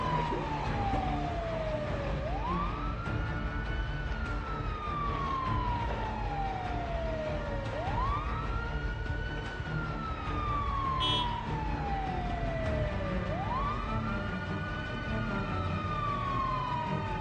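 A wailing siren in the game Project Zomboid rising and falling in slow repeated sweeps, three full cycles, steady and moderately loud over a faint background hum.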